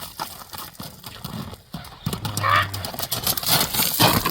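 A black horse walks along, its hooves striking the ground in a close, uneven clip-clop that grows louder in the second half, with faint background voices.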